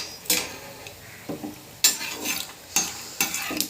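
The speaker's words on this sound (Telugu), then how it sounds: "కడాయి పెట్టుకొని ఆయిల్ వేసుకొని పల్లీలు వేసి వేయించుకోవాలి" Raw peanuts frying in oil in a kadai on a stove, stirred with a ladle in about five quick scraping, sizzling strokes, close and fairly loud with short pauses between.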